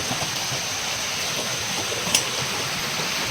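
Steady broadband rushing of a flowing river fills the scene, constant and fairly loud, with one brief sharp tick partway through.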